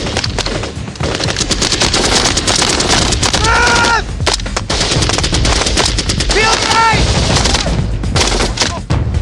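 Sustained automatic rifle fire from an SAS patrol running a contact drill, rapid bursts overlapping almost continuously for the whole stretch, loud and close, with brief metallic ringing in places and no clear talk.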